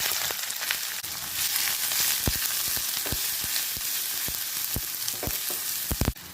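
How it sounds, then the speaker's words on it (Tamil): Chopped onion frying in hot oil in a pan with mustard seeds, cumin, dried red chilli, ginger, garlic, curry leaves and urad dal: a steady close sizzle with scattered sharp pops and spoon scrapes, no talking. "வெங்காயம் வதங்கி உளுந்தம்பருப்பு செவந்து வரட்டும்"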